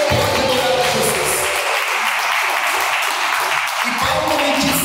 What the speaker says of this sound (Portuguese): Se você crê, batam palmas para Jesus.